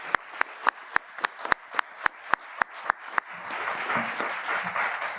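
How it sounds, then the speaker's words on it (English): Audience at an NYU Law School film screening and panel discussion applauds the panelists: a few loud, evenly spaced claps that swell into dense, continuous group applause filling the room. "please, let's clap for the panelists"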